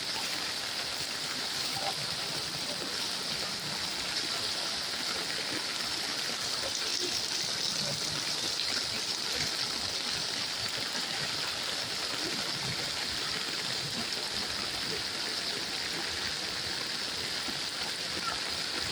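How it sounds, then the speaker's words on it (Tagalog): Steady, dense hiss of heavy rain pouring down continuously during flooding in Mandaluyong, Philippines, loud and unbroken throughout with no voices. "Malakas pa rin ang ulan."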